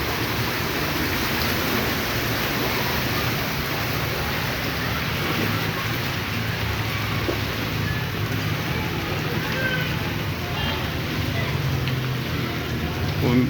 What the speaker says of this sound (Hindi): बस यही दुआ है कि बारिश इतनी ही रहे जो हमारे लिए बाइस रहमत हो।